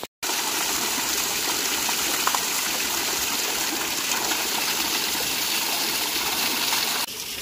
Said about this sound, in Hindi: तो गौमुख से पानी निकल रहा है